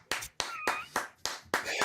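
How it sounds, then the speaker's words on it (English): Hands clap in several distinct, separate claps at a slow, steady rhythm, close and crisp, with brief quiet gaps between each. "Just a round of applause, friend."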